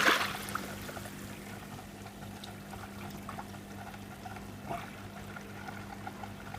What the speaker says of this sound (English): So let's start up the pump.